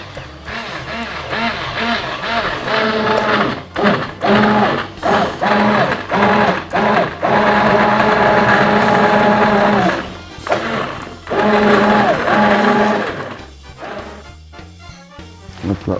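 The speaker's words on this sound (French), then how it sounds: "Alors maintenant je vais venir mixer doucement mes butternuts." A kitchen blender purées butternut squash with a loud motor whine that pulses and shifts pitch, stopping and restarting several times, with brief gaps and clattering as the mixing slows toward the end.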